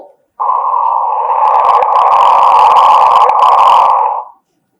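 A gravitational-wave chirp from two colliding neutron stars, rendered as sound, plays as a single steady, loud, rising whoop-like tone lasting about four seconds, with a crackly texture layered over it and no one talking.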